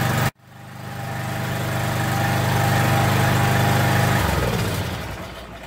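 A Briggs OHV engine on a Craftsman 2700 psi pressure washer starts after a brief pause and runs at a steady, loud, droning idle, then the pitch drops near the end as it slows.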